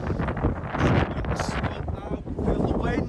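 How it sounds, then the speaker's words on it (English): Strong gusting wind buffets the microphone on a seafront promenade, a loud continuous roar and rumble throughout, with a voice briefly audible under it. "Feel the wind."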